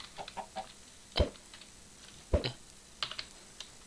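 Computer keyboard keys clatter in a quiet Minecraft gaming session, a few scattered clicks then two sharper bursts of typing near the middle, with light taps toward the end, close and fairly soft.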